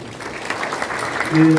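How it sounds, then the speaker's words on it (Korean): A crowd applauds at a citizens' joint press conference in Gwangmyeong opposing the relocation of the Guro train depot; a steady, moderately loud wash of clapping with a voice rising over it near the end. "우리 모두에게 서로 격려가 되는 박수를 부탁드리겠습니다"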